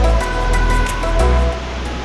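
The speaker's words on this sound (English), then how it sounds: "Yes guys, that's what I was looking for. A lost waterfall." A hidden waterfall in a rainforest pours as a steady, loud rushing roar close by, with brief surging swells in the falling water.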